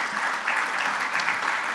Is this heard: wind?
no